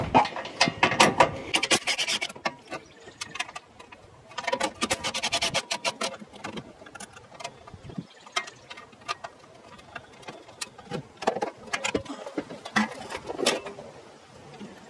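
Hand ratchet working 10 mm bolts off a 2014-2019 Jeep Grand Cherokee during radiator replacement: bursts of rapid, loud clicking pawl strokes close by, separated by short pauses and softer metallic handling noises.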